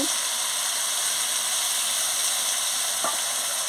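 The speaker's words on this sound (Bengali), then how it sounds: "আদা বাটাটা দিয়ে দিচ্ছি" Ginger paste hitting a hot pan, a steady bright sizzle with constant hiss throughout and a brief stirring scrape near the end.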